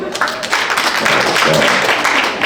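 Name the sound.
audience clapping for single people at comedy show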